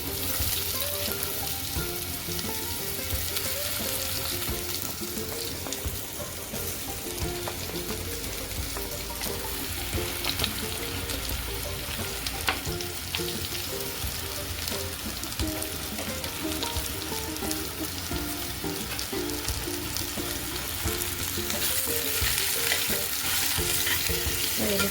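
Chopped raw mango tipped into a pan of hot oil with crackled cumin seeds, frying with a steady dense sizzle and occasional stirring scrapes, close and continuous throughout.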